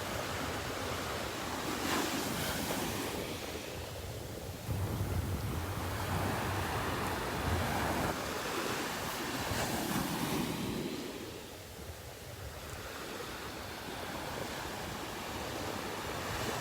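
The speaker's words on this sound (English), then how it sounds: "Getting a little bigger as the tide goes out." Ocean surf on a beach in North Naples, Florida, with waves building as the tide goes out: a steady, fairly loud wash of breaking water that swells and eases in slow surges, with wind rumbling on the microphone and no talking.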